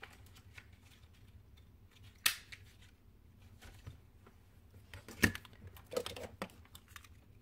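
Scissors snip through fabric while making cloth flowers, a few faint, close cuts and rustling handling sounds in a quiet room.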